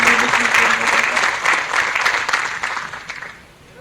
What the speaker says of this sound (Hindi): एक बार जोरदार तालियों से स्वागत करिए, अभिनंदन करिए माननीय मुख्यमंत्री महोदय का।